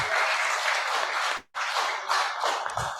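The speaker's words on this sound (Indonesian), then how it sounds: "ya tepuk tangannya dong biar lebih meriah lagi." An audience claps at a church fellowship gathering, with a lively, busy burst that drops out briefly midway and then resumes just as strongly.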